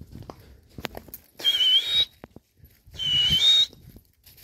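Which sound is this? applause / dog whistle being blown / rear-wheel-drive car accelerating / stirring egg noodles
dog whistle being blown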